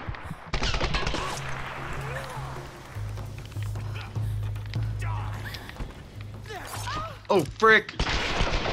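Rapid gunfire from a Tomb Raider video game crackles through much of the scene over steady low game music, with a person talking briefly near the end.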